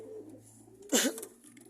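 A male Rajan pigeon gives a single short, close coo, a brief burst standing out from a quiet, humming background.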